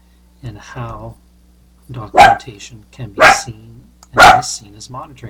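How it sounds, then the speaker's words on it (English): A dog barks several times in the background, loud bursts breaking in between a person's ongoing speech during an online presentation. "I apologize for my dog barking in the background"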